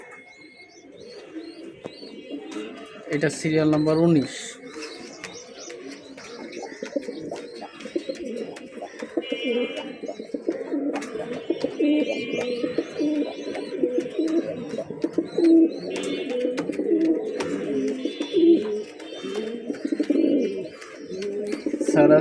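Pigeons kept in a breeders' loft, rain-soaked, coo steadily and close up, with overlapping chirps and a brief rustle early on, while someone speaks briefly.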